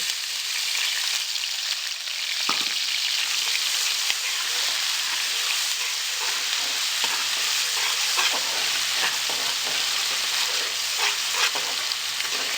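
Green chili and ginger fry with browned onions in a pan, a loud, even hiss of sizzling oil broken by scattered pops and a spoon knock, close and continuous without speech.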